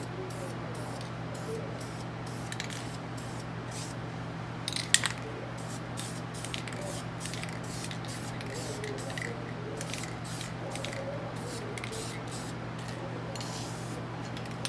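Aerosol spray paint hisses onto Ford F100 engine valve covers in many short, repeated bursts of varying length, close and moderately loud, over a steady low electrical hum, with no talking.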